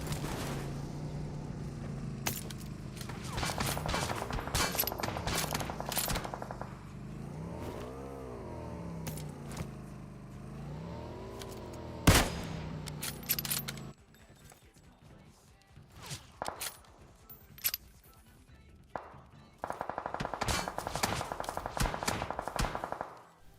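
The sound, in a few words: gunfire in a video game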